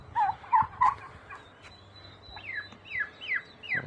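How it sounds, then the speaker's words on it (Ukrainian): A turkey gobbles close by in several short warbling bursts, then a run of descending calls, with quiet background. "Індик ходить коло індички, коло клітки охороняє."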